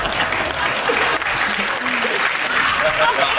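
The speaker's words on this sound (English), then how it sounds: "We clap at the beginning." Studio audience clapping on a TV quiz show, loud and continuous, with talking running over the applause.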